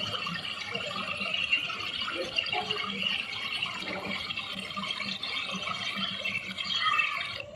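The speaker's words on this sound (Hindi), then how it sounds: "इस झरने के पास जाएं, इस नदी के पास जाएं, उस पानी की आवाज़ को सुनें।" Water of a waterfall and river streams and trickles in a continuous, moderately faint wash with small splashing rattles and drips, steady throughout with no voices.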